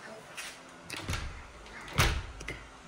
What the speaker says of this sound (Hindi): हम पहले दरवाज़ा बंद कर लेंगे अपना।